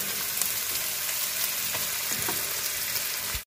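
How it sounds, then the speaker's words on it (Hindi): Potato peels frying in hot oil until golden give a steady, dense sizzle with scattered crackles and pops, close and continuous throughout with no voices. "इन्हू भी ना फ्राई करा अच्छी तरह गोल्डन करा छिलके में"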